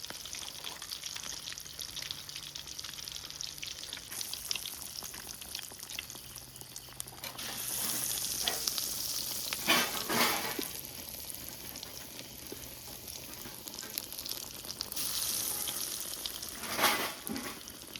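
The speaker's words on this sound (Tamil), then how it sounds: "மீனை பொரித்து முடித்தாச்சு." Fish sizzling in hot oil for Tamil meen varuval, a steady close crackle that swells louder around the middle and again near the end, with no talking.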